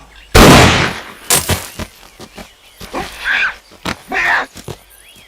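A single loud, close gunshot bursts out, followed by scattered knocks, grunting noises and short vocal sounds.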